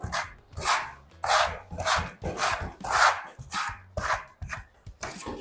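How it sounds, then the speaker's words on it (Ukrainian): Metal spatula working Palazzo art concrete plaster, mixing the material on the blade with a steady rhythm of about a dozen scraping, slapping strokes, close and fairly quiet, with no talk. "додатково набираю матеріал на шпатель і ретельно перемішую матеріали між собою"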